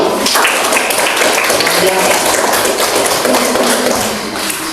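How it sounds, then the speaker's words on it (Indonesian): A classroom group gives applause to the first group during a school lesson: a dense, steady patter of many hands clapping close by throughout, with voices mixed in. "Tepuk tangan buat kelompok 1"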